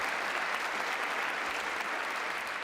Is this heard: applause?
yes